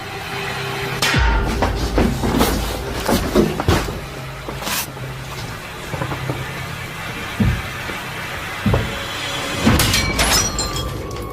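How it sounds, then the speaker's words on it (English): A wardrobe mirror bursts apart in a room, with several loud sharp cracks and glass breaking spread across the span, followed by scattered clatter of falling pieces. "the mirror on the wardrobe bursts outward"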